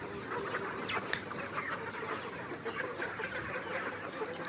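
A flock of desi chickens clucking as grain is scattered for them at a free-range farm, a dense continuous murmur of clucks and calls, moderately distant and soft.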